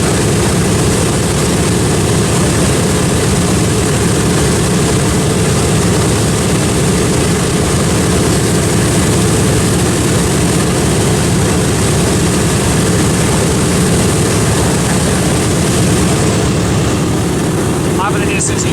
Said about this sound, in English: B-25 is getting ready to let go.